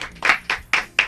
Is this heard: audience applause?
yes